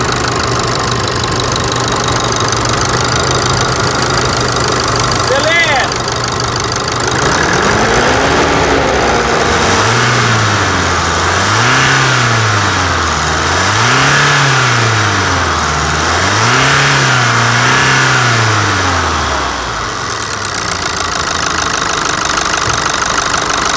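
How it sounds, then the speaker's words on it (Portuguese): A Chevrolet S10 pickup's engine idles with a steady knocking rumble, then revs up and down in several repeated swells before settling back. "Vamos escutar a melodia desse motor Chevrolet aqui?"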